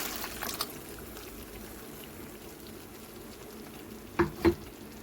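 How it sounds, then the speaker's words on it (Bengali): Poppy seed and melon seed paste fries in oil with a soft, steady sizzle, and near the end come two louder scraping stirs close together. "দিয়ে ভালো করে কষিয়ে নেব"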